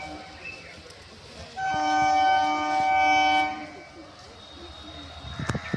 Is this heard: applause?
no